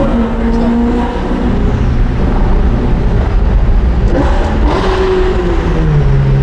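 A Ferrari 488 Pista Novitec engine drones and revs steadily, loud and close, its pitch rising and falling slightly as the throttle is barely eased.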